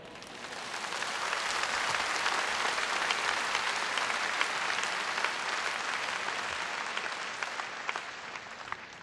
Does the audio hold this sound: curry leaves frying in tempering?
no